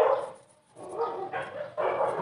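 Several dogs bark in the background during a fabric painting lesson, with three broad, fairly loud bursts of barking separated by a brief lull, and no talk over them.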